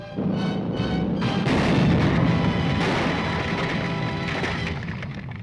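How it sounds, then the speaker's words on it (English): A film explosion erupts as a heavy blast followed by a long rumbling roar with crackling debris, loud and sustained for several seconds before slowly fading. "That explosion will cause an intense investigation."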